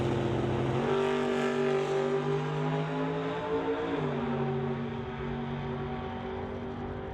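A Chevy Cavalier door slammer drag car roars down a drag strip at 155 mph, heard as a loud, steady engine drone with a slight pitch shift partway through. It is heard from a distance, and no one speaks.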